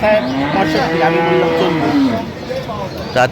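A dairy cow moos loudly and close by in a long, wavering call at a cattle market, followed by brief background sounds.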